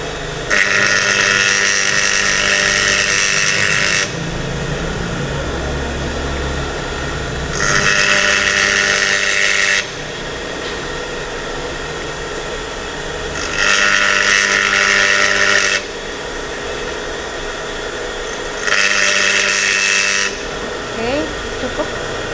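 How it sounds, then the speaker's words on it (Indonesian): Grinding of thread-cutting lathe chisels on a bench grinder: four loud, bright bursts of a few seconds each, spaced evenly, set against a steady motor hum in a workshop. "nanti mahasiswa mulai praktek untuk mengasah pahat ulir satu per satu"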